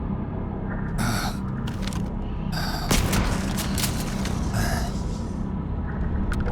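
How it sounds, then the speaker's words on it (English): Grenades explode during a gunfight in the Starfield video game, with several heavy booms and crackling bursts spaced a second or two apart over a dense rumbling background. "Barrett, you gotta stop throwing grenades, buddy"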